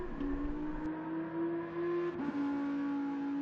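GT1 race car engine in a sim racing game at Sardegna, a steady high engine whine held at constant pitch, quiet and continuous with a brief dip and gear-change blip partway through.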